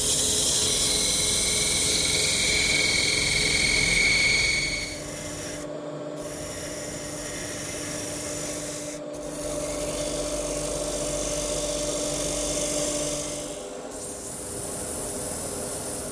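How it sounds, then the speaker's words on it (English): A parting tool cuts into wood spinning on a lathe while a dining table part is turned, giving a steady, close scraping hiss. The hiss eases slightly in pitch partway through, with brief pauses. "now I'm going to start with this feature right here with my parting tool"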